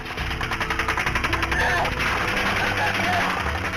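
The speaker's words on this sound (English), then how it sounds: "The officers are pinned down by automatic gunfire." Rapid bursts of automatic gunfire during a mass shooting pinning down police officers, fast rhythmic shots close by, followed by a sustained noisy roar with scattered sharp impacts.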